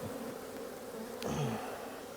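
Honeybees in an opened, healthy hive box, a steady low drone of many wings with one brief louder buzz as a bee passes close.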